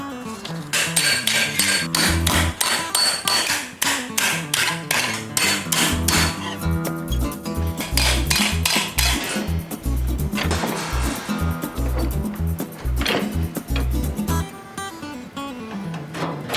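A hammer strikes sheet metal for a 1948 GMC pickup fender brace held against a dolly clamped in a vise, a rapid, steady run of loud, close, ringing metallic blows with a few brief pauses.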